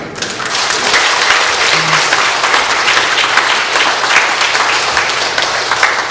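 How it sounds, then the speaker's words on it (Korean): A church congregation breaks into loud, sustained applause, dense, continuous clapping from a large crowd filling the sanctuary throughout. "박수 좀 더 시게 쳐주시겠어요?"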